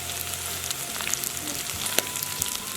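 Chicken gizzards fry in hot oil with chilli powder, coriander powder, cumin powder and fennel powder, giving a steady close sizzle with light crackles and an occasional soft stir, no talking.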